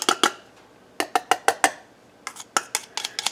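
Dry ingredients tipped into a pot of melted wax and butters, heard as about a dozen sharp, close clinks and taps of a utensil against the pot, in two quick clusters with a short pause between.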